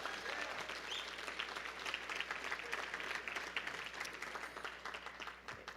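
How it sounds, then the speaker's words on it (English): Sustained applause from a symposium audience at a journalism event, steady dense clapping filling the room without pause. "could we just get a round of applause for everybody who's"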